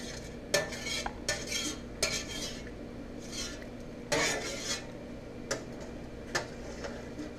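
A utensil scrapes bone soup broth down the sides of a pot in a series of short, separate scrapes and clinks against a quiet background hum, close by, with no voices.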